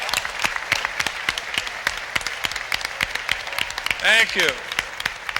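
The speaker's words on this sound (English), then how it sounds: "Big round of applause." A crowd applauds at the 1993 Metro Red Line grand opening ceremony in Los Angeles, with sharp scattered claps running throughout and a voice briefly speaking over them.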